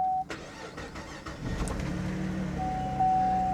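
A car engine is started by push button, with a brief starter crank and catch that settles into a steady, close idle hum, and a faint sustained tone rings above it at the start and end.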